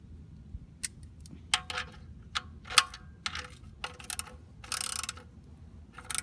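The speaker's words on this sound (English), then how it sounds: "Screw it back on by hand, and have your Allen wrench so you can tighten it." An Allen wrench tightening an oil drain plug gives a series of faint, irregular metallic clicks and scrapes close by, with a brief louder rasp near the end and no talk.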